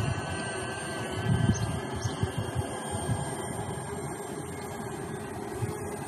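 DJI Spark quadcopter drone in flight outdoors, a steady high-pitched whine of small propellers with a low airy rumble beneath, constant and fairly close without talk.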